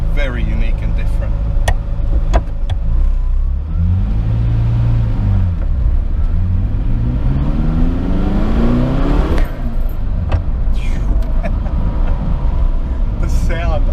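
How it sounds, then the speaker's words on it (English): A Ferrari F40 twin-turbo V8 revs loudly and close by on a Sydney street, its engine note rising and falling in repeated sweeps with a deep, growling roar, under people talking and traffic noise. "You can still hear that V8. It's got that mad growl to it."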